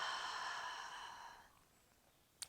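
A long, steady breathy exhale during a hypopressive pelvic floor and core breathing exercise, fading out over about a second and a half, followed by a brief soft click near the end.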